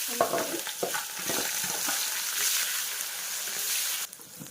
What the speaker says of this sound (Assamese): আৰু ইয়াতে মই কাটি থোৱা ডাঙৰ ডাঙৰকৈ তিনিটা পিঁয়াজ কাটি দিছোঁ